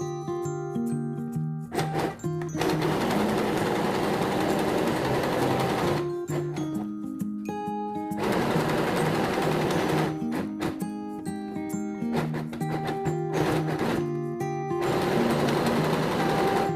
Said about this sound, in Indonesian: Kemudian kita jahit ya.